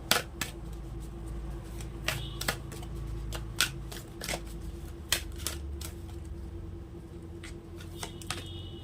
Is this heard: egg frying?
no